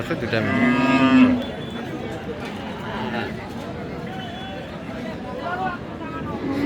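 A crossbred beef cow lets out a low moo near the start at a cattle market in Aftabganj, Dinajpur, Bangladesh, with people talking and general crowd noise around it.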